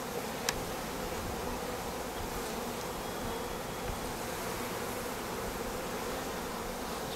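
Honeybees buzz around a hive colony being boosted, a faint, steady, diffuse hum throughout with no speech.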